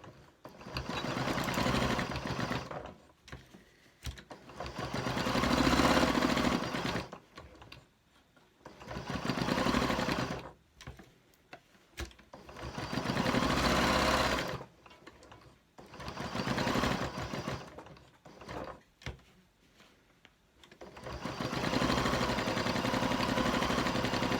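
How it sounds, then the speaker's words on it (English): A sewing machine stitches the seam of a fabric wrist band pin cushion in several bursts of steady, close-up whirring separated by short pauses. No voices are heard. "So I'll just sew that up quickly."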